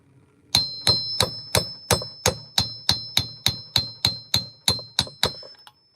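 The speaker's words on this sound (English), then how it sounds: "I'm just pretty much letting the hammer do its thing." A hammer strikes metal during an oil seal replacement, about sixteen evenly spaced, ringing clangs close by at a steady rhythm, each with a bright metallic ring, then it stops.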